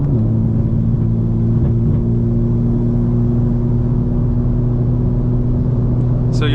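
A 2025 BMW M4 Competition xDrive LCI cruising, a loud, steady in-cabin engine drone with a low, even hum and road rumble that holds throughout.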